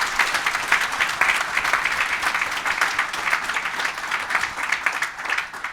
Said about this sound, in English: round of applause for the folks up here on the stage